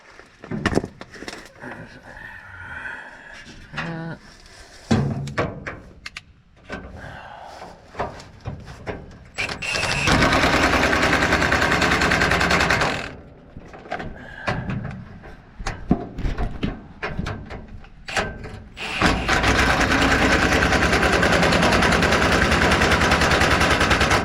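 A power tool tightens the sickle bar guard bolts on a Heston 1070 mower, firing two long, loud rattling bursts, with clanks, handling noises and faint speech in the quieter gaps.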